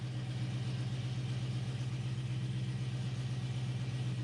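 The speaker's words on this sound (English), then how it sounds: "Sounds like a car." A C5 Corvette Z06 engine with low oil pressure idles steadily nearby, a low, even rumble that holds constant throughout with no voices.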